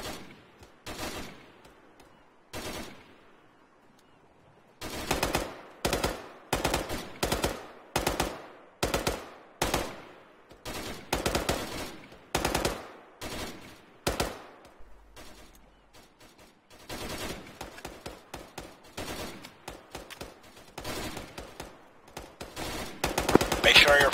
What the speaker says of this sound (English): Open fire towards the east ridge line